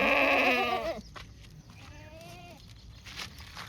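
A red Kathiawari goat gives a loud, wavering bleat nearby, followed by a second, fainter bleat a moment later.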